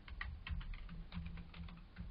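Login details being typed on a computer keyboard, a steady run of soft, close key clicks with no one speaking.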